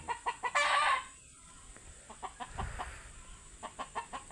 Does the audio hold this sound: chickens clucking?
yes